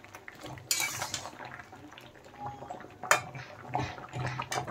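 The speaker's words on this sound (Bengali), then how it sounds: "এখন আমি ম্যাশারসে ম্যাশ করে দিচ্ছি।" Boiled potatoes are mashed with a masher in a pot, giving soft squelching thuds and intermittent metallic clanks against the pot, close and fairly quiet with irregular rhythm.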